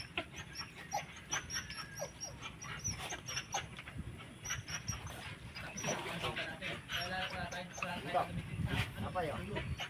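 A dog pants and whimpers nearby at a bangus fish farm waterway, with frequent talk over it throughout.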